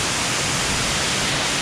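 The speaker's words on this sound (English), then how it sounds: "This is actually a nicer waterfall on the way than the main one." A jungle waterfall at Juan Curie in Santander, Colombia, pours as a steady, dense rushing roar heard up close, unbroken and loud throughout with no voices.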